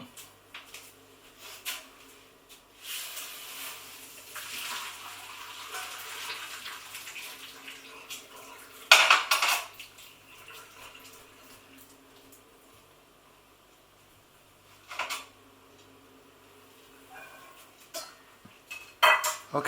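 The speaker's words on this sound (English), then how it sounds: "Paul's going to drain the pasta now." Cooked spaghetti is drained from a pot in a home kitchen, giving a clattering pour of water and pasta with metallic pot clanks and short splashy bursts, moderately close, with little talk.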